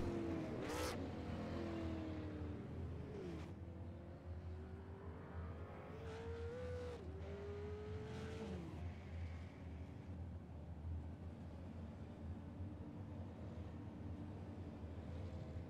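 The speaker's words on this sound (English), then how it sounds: "Cars on pit road here." Super late model race cars roll down pit road at Bristol, engines droning and revving with pitch sweeps as they pass one after another, over constant wind noise on the microphone.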